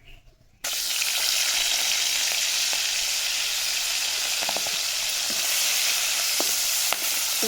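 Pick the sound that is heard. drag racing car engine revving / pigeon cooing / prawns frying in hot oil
prawns frying in hot oil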